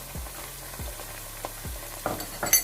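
Ginger paste and green chillies frying in a pan, stirred with a series of scraping, clattering spoon strokes over a steady low sizzle, close and moderately loud, no voices.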